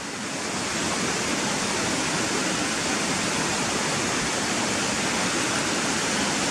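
White water rushes over stones beside a footpath in a loud, constant broadband roar that stays close and unbroken throughout, with no voices over it.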